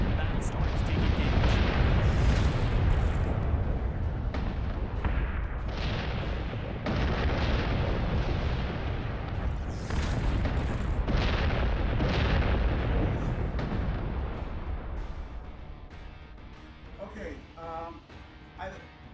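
Battlestar fleet gunfire and explosions in a space combat game keep up a dense, continuous barrage of rapid blasts and booming impacts, loud and sustained before thinning out near the end, with a voice talking over it.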